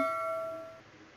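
A single bright bell ding rings out and slowly decays, clear and close, with no voices.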